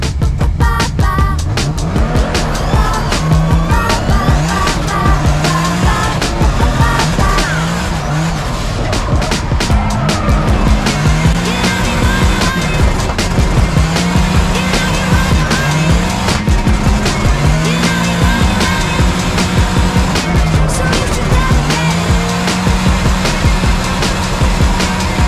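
Onboard a drift car at the Calmont touge, the engine revs hard and rises and falls in rhythm while the tires squeal and skid through the corners, loud and close throughout.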